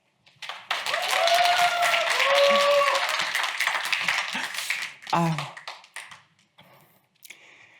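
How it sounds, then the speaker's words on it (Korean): An audience at a public HRD contest applauds to welcome a presenter, starting suddenly, holding strong for several seconds with a faint tonal sound over it, then thinning out and fading into quiet. "큰 박수로 맞아주시기 바랍니다"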